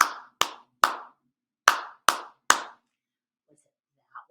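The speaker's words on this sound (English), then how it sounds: "You clap a rhythm" Hands clapping a short rhythm in a classroom game: six sharp, close claps in an uneven pattern, then silence and a faint brief sound at the end.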